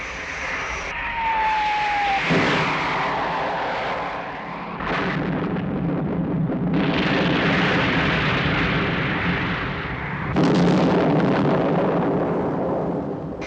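Rocket launch explosions from the 1967 Captain Scarlet and the Mysterons episode 'Flight to Atlantica' sound as loud, heavy roaring blasts that come in several long rumbling bursts, each swelling and fading, with no speech over them.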